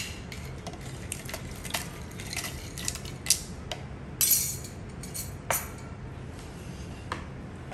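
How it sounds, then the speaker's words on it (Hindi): Ice goes into a blender jar holding a mango coconut shake, making light clinks and clattering taps, with a few sharper knocks, at close range and without talk. "साथ में हम डालेंगे थोड़ा सा बर्फ"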